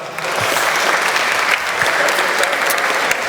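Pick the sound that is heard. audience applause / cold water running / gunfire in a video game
audience applause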